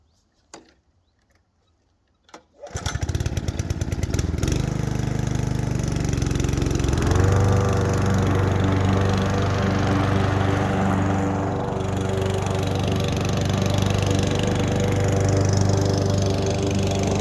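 A Honda Pro Roller petrol lawn mower with a freshly sharpened blade starts after a couple of pulls and then runs loud and steady up close, its engine droning continuously with a slight shift in pitch partway through.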